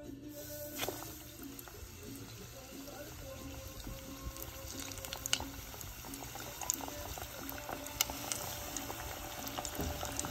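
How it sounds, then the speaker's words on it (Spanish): Chicken wings fry in very hot oil, a steady soft bubbling and sizzling crackle with scattered pops throughout, fairly quiet and close, with no one talking. "Entonces vamos a poner nuestras alitas a freír."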